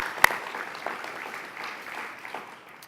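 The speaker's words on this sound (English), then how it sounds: "Please give them a round of applause as well." At a precision health symposium's opening session, the audience gives the event planners a round of applause, moderate and fairly distant, easing off over a few seconds after one sharp knock.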